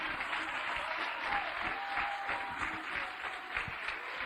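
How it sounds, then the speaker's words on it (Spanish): A church congregation applauds steadily and enthusiastically during a worship service, a dense, continuous clapping that stays loud throughout with little variation. "Apláudelo con ganas."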